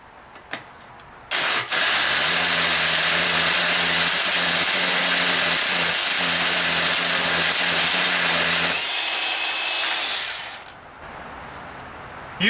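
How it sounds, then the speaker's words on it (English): A Milwaukee M18 FUEL 1-inch SDS-Plus rotary hammer (model 2712) drills a large hole, running steady and loud for about eight seconds, then pitching down before winding off. "And now I can continue to drill the hole."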